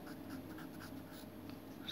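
A pen writes Hindi shorthand in a steady run of soft, close scratchy strokes, quiet and continuous, with no voice over them.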